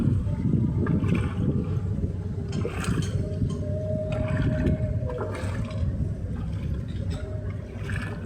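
A dredge pump in flooded ground pulling up water instead of sediment, a continuous loud churning, gurgling rush with low mechanical rumble underneath, steady and close throughout with occasional splashy surges and no talking.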